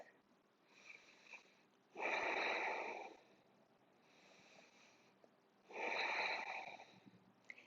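Slow, audible breathing while a person holds the Navasana boat yoga pose: two long, loud exhalations with a soft, breathy hiss, separated by quieter inhales, close and alone with no talking.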